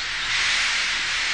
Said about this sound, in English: But Henry still stayed in the tunnel and blew steam at him.